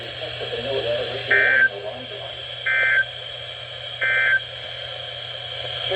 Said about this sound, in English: Test of the new weather radio warning alarm device.